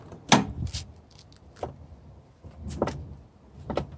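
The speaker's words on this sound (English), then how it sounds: "Now if I go around this side, I'll open this door." Door of an MG ZS car opening on a slightly worn hinge: a sharp unlatch click followed by a few soft creaks and clunks, close by with no talking.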